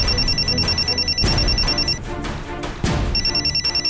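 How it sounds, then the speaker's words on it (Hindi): A telephone rings indoors in a wedding household, an electronic trill repeating in bursts with short gaps, fairly loud and prominent over busy background music and ambient noise. "मेरे घर से फोन आ रहा है"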